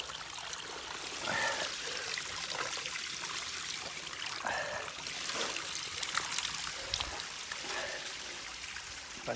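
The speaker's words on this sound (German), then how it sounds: "Hier ist ein toller kleiner Wasserfall." A small waterfall in the woods trickles and splashes steadily, a soft continuous gurgle of flowing water with brief louder spurts, heard close up and fairly quiet with no talking.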